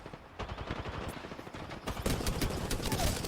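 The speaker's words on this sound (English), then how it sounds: "There's shots back the other way, so I think the third party is showing up." Gunfire from the battle royale shooter Apex Legends, with rapid bursts of automatic shots crackling densely throughout, growing louder and busier in the second half as a firefight heats up nearby.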